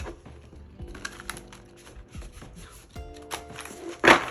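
Tarot cards being shuffled by hand, a run of soft papery riffles and taps with a sharper burst of card noise near the end, close and alone without talk.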